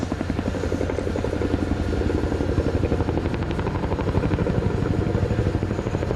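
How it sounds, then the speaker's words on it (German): Heavy rotor thudding of a Boeing Chinook HC4A helicopter at an air show flying display, in a fast, steady rhythmic chop over a constant engine roar, loud and close throughout. "generating that distinctive sound of Chinook rotor blades"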